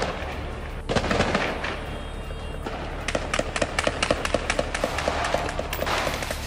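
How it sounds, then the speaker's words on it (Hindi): Gunfire in central Gaza crackles in rapid sharp reports, a dense burst followed by a steady run of evenly spaced shots, close and loud over a low rumbling background. "सेंट्रल गाजा में आमने सामने की जंग और यहां पर ये फायरिंग चल रही है"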